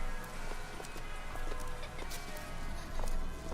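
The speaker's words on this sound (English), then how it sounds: "A little mechanical horse." Quick, light hoofbeats of a small mechanical horse in the video game BioShock Infinite clip-clop in a steady trotting rhythm over a busy background, fairly faint.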